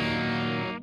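An electric guitar plays through a Boss MD-2 Mega Distortion pedal with the distortion knob at zero, a single sustained, mildly gritty chord that rings for under a second before cutting off.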